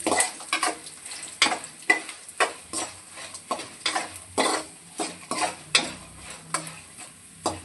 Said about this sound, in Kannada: ಫ್ರೈ ಮಾಡಿ ಚೆನ್ನಾಗಿರುತ್ತೆ ಮೆಣಸಿನ್ಕಾಯಿ ಎಲ್ಲ ಹಾಕಿ